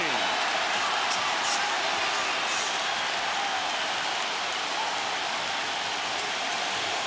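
Arena crowd at the 2004 NBA Finals, Lakers versus Pistons in Detroit, a steady dense roar of cheering that fills the space without letup, with a commentator's voice over it.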